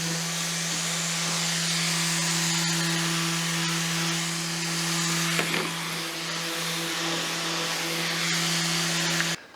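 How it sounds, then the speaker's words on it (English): A power sander runs continuously on wooden French cleats in a workshop, a steady buzzing whine with a slight grinding texture, close and loud, before cutting off abruptly at the end. "I'm going to hit all these with the sander and just take off all the splinters"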